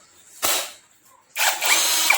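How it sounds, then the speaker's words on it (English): A Nanwei brushless cordless drill spins up in two bursts, a short whir then a longer sustained run, close and loud with no talking. "We've got the cordless drill here."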